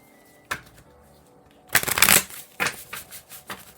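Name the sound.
shuffling oracle cards from the Sacred Soul Portal deck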